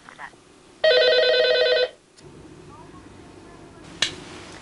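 Telephone ringing for an elderly safety check-in service, a single loud electronic bell ring lasting about a second, followed by room noise and a sharp click; someone talks.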